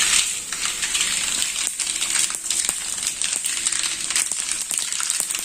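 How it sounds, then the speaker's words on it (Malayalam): Mustard seeds tossed into a hot pan for mango pickle, a dense continuous sizzle with scattered sharp pops and crackles, close and fairly even throughout. "കടുക് ആദ്യം ഇടുക."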